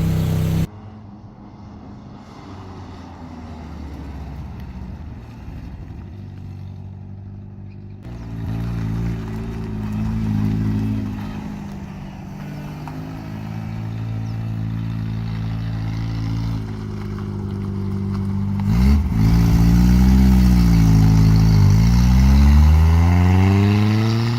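A 1990 Toyota Tercel engine idles steadily and close after a fuel tank replacement, with a low continuous hum that swells with revs partway through and rises again near the end, with no talking.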